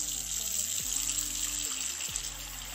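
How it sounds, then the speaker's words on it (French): Water runs steadily into a pot holding cleaned tripe, a continuous close splashing gush lasting the whole moment. "Et donc là, je vais mettre de l'eau."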